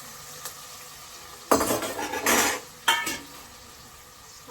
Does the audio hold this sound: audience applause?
no